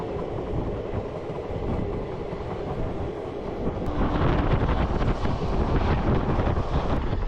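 A train from Shirdi to Chennai runs with a loud, continuous rumble and rattle, buffeted by wind, growing louder partway through.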